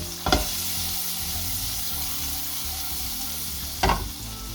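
Whole cherry tomatoes frying in a pan for a full breakfast give a steady close sizzle throughout, with two brief louder clatters of utensil against the pan near the start and end.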